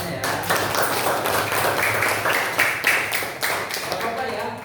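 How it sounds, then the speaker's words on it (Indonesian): Students in an elementary school classroom clap together in a quick, uneven patter of many hands, lively and fairly close, lasting several seconds. "tepuk tangan semuanya ya."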